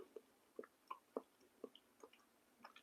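Crunchy carrots from a one-pot brown beef stew are chewed close up, soft rhythmic crunching bites repeating about twice a second in an otherwise quiet setting.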